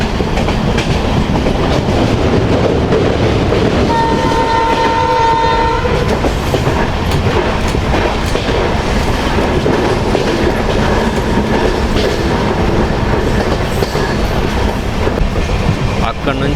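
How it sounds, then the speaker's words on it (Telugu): Agartala Express, train 15664 from Silchar to Agartala, passes close by with a steady loud roar of wheels and engine, a sustained horn blast sounding for about two seconds early on, then continuous rumble and clatter. "హారన్ సౌండ్ బాగుంటుంది,"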